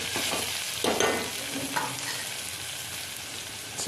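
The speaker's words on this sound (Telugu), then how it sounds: "మధ్యలో మనం కలుపుతూ ఉండాలి." Broad bean (chikkudu kaya) curry frying in oil in a pan while it is stirred, giving a steady soft sizzle and a few scraping stirs near the pan, with no talk.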